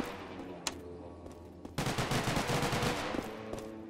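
Rapid gunfire in Garry's Mod, a close, loud string of shots bursting in after a quiet stretch broken by a single distant crack, the volley continuing steadily to the end.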